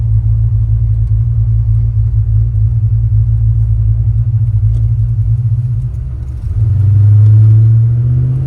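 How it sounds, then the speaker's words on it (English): A 1956 Chevrolet Bel Air hot rod with a Tri-Power small block and 700R4 overdrive cruises on a sunny day, a loud, steady low engine rumble that dips briefly, then swells again as it pulls. "it's a great opportunity to take a nice hot rod for a cool drive"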